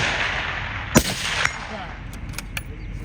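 A single rifle shot at a precision rifle match, a sharp distant crack standing out over steady outdoor wind noise, followed by a few faint clicks.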